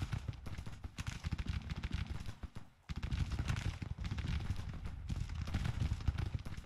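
Dense, continuous gunfire in a Grand Tactician Civil War battle, volleys and rolling shots crackling steadily with one brief lull near the middle, no voices.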